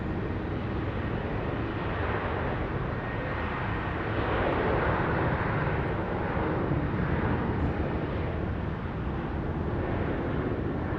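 A Boeing 737 at Sydney Airport, heard as a steady broadband jet engine roar that stays constant and moderately loud throughout, with no talk over it.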